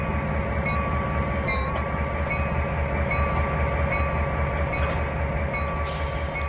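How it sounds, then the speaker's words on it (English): Train backing up through a switch on the Tidewater route in the video game Trainz 2019, a loud continuous rumble of rolling wagons with sustained wheel squeal tones and faint clicks over the track. "I was backing Donald up here on the right side of the train"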